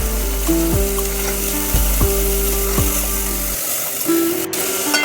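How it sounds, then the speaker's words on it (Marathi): Moth beans fry in oil with asafoetida and turmeric, producing a loud, close, steady sizzle. A droning, gliding tonal hum runs over it for most of the stretch. "हळद हिंग परतून झालेलं आहे आता आपण मटकी टाकायची आहे"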